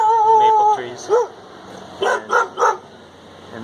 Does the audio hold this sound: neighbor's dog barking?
yes